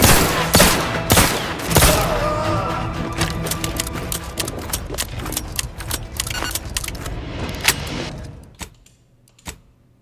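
Rapid gunfire from The Outer Worlds 2 rattles in loud, dense bursts, a sustained stream of sharp shots that thins into a few isolated cracks before falling nearly silent at the end.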